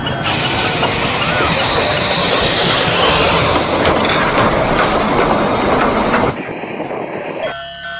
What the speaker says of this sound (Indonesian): Wah, kita mendapatkan kereta api, teman. Mari kita nyalakan.